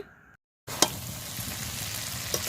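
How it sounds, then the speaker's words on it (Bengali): Boiled Hakka noodles stir-fried with potatoes and sauce sizzle in a continuous loud hiss, broken by scraping clicks of stirring, after a short quiet gap at the start. "এবার চাউমিনটা দিয়ে নাড়াচাড়া করে নিচ্ছি"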